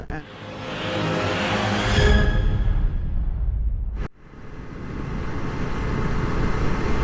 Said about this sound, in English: So I am riding my Yamaha Virago 535, that's 535 cc engine.